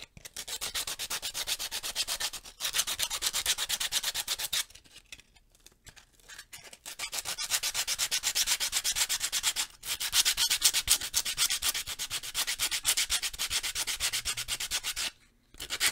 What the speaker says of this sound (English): I know I will need a lot of sandpaper for this